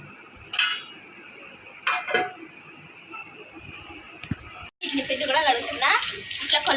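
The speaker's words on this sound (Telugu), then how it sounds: "ఇడ్లీ పిండి అయితే ఇప్పుడు కడుగుతున్నాను" Rice is washed by hand for idli batter in a home kitchen: water sloshes and pours in a vessel, with a few clinks of a metal pot, ending in a busier stretch of running, swirling water.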